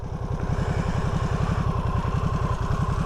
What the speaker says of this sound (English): The 2022 Harley-Davidson Nightster